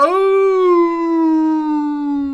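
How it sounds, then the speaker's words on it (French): A wolf howls desperately in a single long, loud, sustained tone that rises slightly and then slowly falls over about two seconds, with no other sound under it. "hurle le loup désespéré"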